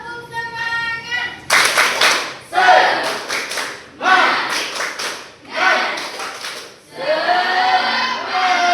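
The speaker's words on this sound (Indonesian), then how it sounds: "Tepuk semangat." A sixth-grade class does a rhythmic spirit clap, bursts of many hands clapping in quick patterned volleys, separated by short pauses, with children's voices chanting between and over the claps.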